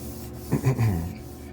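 An Intel Core i9-13900K processor's metal surface is lapped flat, giving a brief burst of gritty rubbing strokes in the middle of an otherwise quiet stretch, close and moderately loud.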